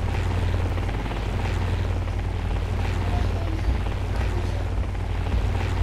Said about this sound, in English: I'm just gonna hop in the helicopter.